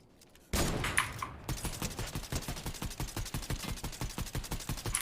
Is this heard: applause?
no